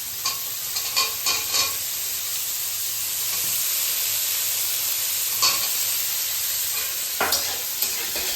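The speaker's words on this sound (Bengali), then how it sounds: "এবার আরেকটু ভাজা করে নেব সবজিগুলোকে।" Vegetables for fried rice fry in a hot pan, a steady sizzle with a few knocks and scrapes of stirring at the start and again later.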